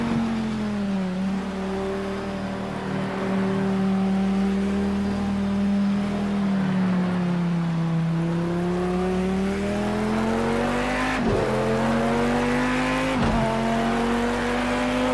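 Race car in the racing game Assetto Corsa Competizione, its engine droning steadily with pitch rising and falling through gear changes, tires squealing, and two sharp shift cuts near the end, continuous and loud with no talking.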